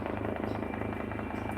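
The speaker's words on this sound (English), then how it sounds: "So the police chopper doing that." Police helicopter flying overhead, a steady rhythmic rotor thump with an engine buzz, moderately faint and constant throughout.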